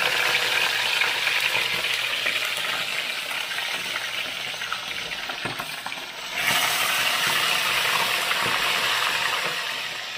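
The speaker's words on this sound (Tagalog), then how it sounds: "Mainit na po yung ating mantika, magpiprito na tayo para sabayan na sa gisa" Tilapia fries in hot oil with a steady, hissing sizzle that jumps louder partway through, likely as more fish goes in, with a brief clatter before the sizzle carries on strongly.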